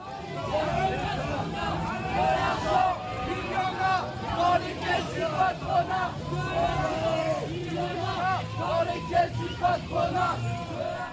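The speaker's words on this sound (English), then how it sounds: "they were chanting anti-capitalist chants as they threw their garbage at that boat" A crowd of protesters chants anti-capitalist slogans at a superyacht, rhythmic massed voices rising and falling in loud repeated bursts, mixed with yells and general shouting throughout.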